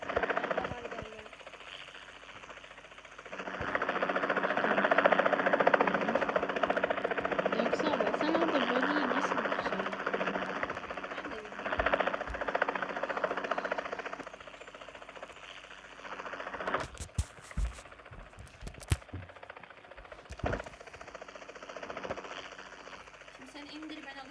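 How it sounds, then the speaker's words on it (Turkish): A helicopter's rotor and engine drone dominate a PUBG Mobile match, loud and continuous for several seconds before fading, followed by scattered sharp gunfire bursts, with players talking over the action. "Helikoptere sıkıyor."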